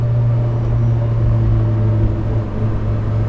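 Mitsubishi Evo 8 engine with a new air intake pulling in second gear around 30 miles an hour, a loud steady low droning hum with a strong tonal harmonic, heard from inside the car without talk.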